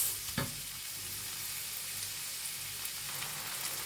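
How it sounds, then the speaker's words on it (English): Something sautéing in a pan while making couscous, an even, quiet sizzling hiss throughout with one brief stir or knock early on and a few faint scrapes later. "So I'm just going to allow this to saute down for about 5 minutes."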